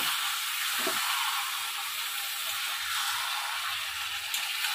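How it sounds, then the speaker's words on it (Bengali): Chicken pieces in fresh coconut masala sizzle steadily in a hot pan while being gently stirred, a continuous bright frying hiss with a faint low knock near the start and no voices. "এবার মাংসগুলো একটু আস্তে আস্তে আস্তে আস্তে আমরা নেড়ে নেবো"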